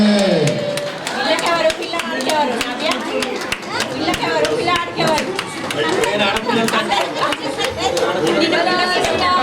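A crowd claps at a Sri Rama Navami celebration in an apartment complex, with dense, steady clapping mixed with chatter and a loud voice over a speaker.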